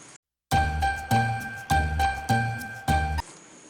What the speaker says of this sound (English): when the plumber walks with them, it makes a bell sound